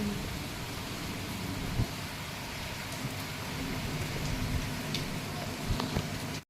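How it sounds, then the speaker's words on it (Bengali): Heavy rain and strong wind during Cyclone Remal, a dense, constant roar of downpour with a few faint ticks and knocks, steady and loud throughout with no talking. "তার সঙ্গে প্রচণ্ড বাতাস দেখলে বেলা বাড়ছে বৃষ্টিও বাড়ছে"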